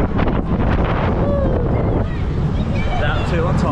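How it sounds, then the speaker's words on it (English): Gusty wind buffets the microphone with a steady roar at Clarence Pier funfair in Southsea, riding the Tidal Wave, and a few faint voices can be heard in the background. "It's got a bit windy now though."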